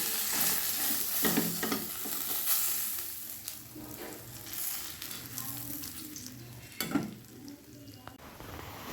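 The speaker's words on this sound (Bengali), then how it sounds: "এবার বাকি মাছগুলো ভেজে নিচ্ছি" Fish pieces frying in hot oil for a Bengali bata fish jhal, giving a steady sizzle with occasional stirring clatter and spatter bursts, close and continuous throughout with no talking.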